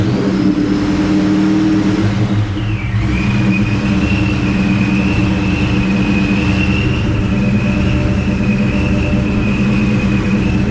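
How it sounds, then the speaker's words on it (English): A car with a Tremec T56 gearbox sits idling loudly and close after a cold start, its engine holding a steady drone with a high whine that dips and then settles at a constant pitch. "It says a cold start, so we'll see how this thing does."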